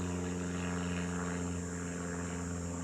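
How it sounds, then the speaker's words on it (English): A propeller airplane drones steadily overhead above an outdoor athletic field, a loud, continuous buzzing hum with no breaks and no voices. "We have an airplane flying above us right now"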